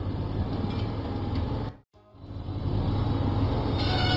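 Train engine Diesel pulling into the steamworks in a Thomas and Friends video game, a continuous loud rumbling rail roll that briefly drops out near the middle before resuming.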